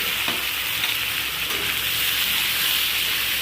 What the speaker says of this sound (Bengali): সবজিগুলো একটু ভাজা হবে, অল্প একটু হলুদ আর অল্প একটু লবণ।